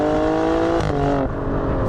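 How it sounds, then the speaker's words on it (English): Alfa Romeo Stelvio Q's 2.9-litre twin-turbo engine revs hard and close, its pitch climbing, dipping between gears and rising again in a continuous loud howl with no talk. "That engine is a masterpiece."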